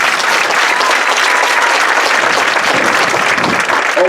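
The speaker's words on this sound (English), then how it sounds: "So how about a round of applause for Miss Brooke?" Loud, dense audience applause fills a school band's meet-the-band night, steady clapping from a large crowd sustained throughout with no pauses.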